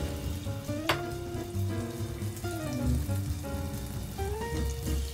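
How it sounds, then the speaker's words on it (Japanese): Onions, garlic and ginger frying in a pan for a Goan-style shrimp curry give a steady crackling sizzle, with tonal music playing underneath throughout. "はい、で玉ねぎを炒めていきます。"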